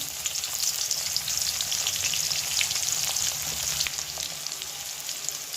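Onion sizzling in hot oil with dry red chilies and whole garam masala, a constant loud close crackle and hiss with faint stirring, no talking.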